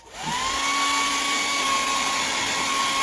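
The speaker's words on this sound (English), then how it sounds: "I'm going to hit this with the blow dryer." Hair blow dryer switching on to dry a freshly stencilled wooden sign, a close, steady whirring rush of air with a high motor whine, running continuously and alone.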